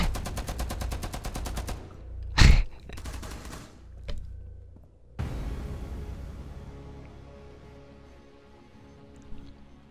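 Gunfire in Rainbow Six Siege on Xbox One, a rapid automatic burst rattling for nearly two seconds, then a sharp loud blast and a few scattered shots fading into a lingering ringing tail.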